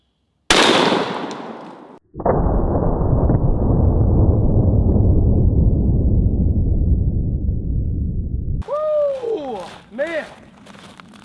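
A 10 gauge sawed-off shotgun fires outdoors in cold weather, a single very loud, close blast followed by a long booming echo rolling off for several seconds before fading under a voice.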